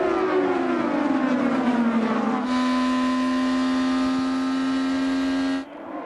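IndyCar race cars screaming past at the Indianapolis 500, one loud high-revving engine note falling in pitch and then holding a sustained whine before cutting away abruptly.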